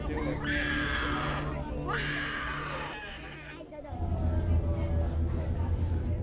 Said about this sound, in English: this is the whole entire place here is screaming